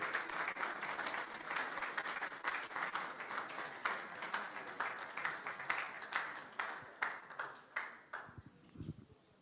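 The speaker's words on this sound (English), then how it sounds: "A round of applause as she makes her way to the podium" A conference audience at a CEO and HR directors' forum applauds as the keynote speaker walks to the podium: dense, steady clapping from a full room that thins out into scattered claps near the end.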